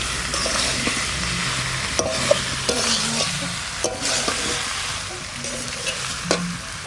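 Green jackfruit and potato pieces being sautéed and stirred in a hot pan, a steady sizzle with repeated scraping strokes and soft knocks of the spatula, close up with no talk.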